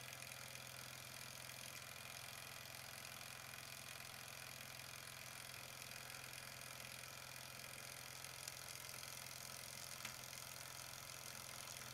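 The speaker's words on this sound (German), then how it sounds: "Der Abdampf entweicht aus dem Kondensat- und Ölabscheider." A Wilesco D10 model steam engine with a gas tube burner and an exhaust steam and condensate collector runs steadily, a continuous quiet mechanical hum and hiss of escaping exhaust steam with no voices.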